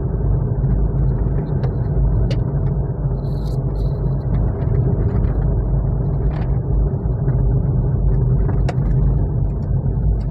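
A car cruises in third gear at low speed on a city road, its engine and road noise a steady, loud, low rumble with a few faint clicks and knocks inside the cabin.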